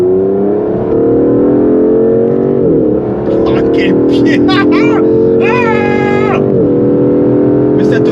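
An Aston Martin DBS engine drones loudly while driving, its pitch climbing steadily and dropping at two gear changes. A voice exclaims over the engine note partway through.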